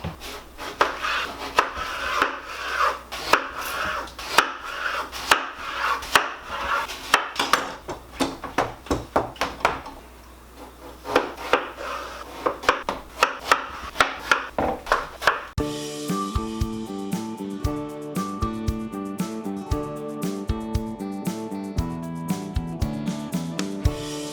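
A knife cuts watermelon into small rectangular pieces on a board, with crisp, irregular chopping thumps close by for about fifteen seconds before music takes over.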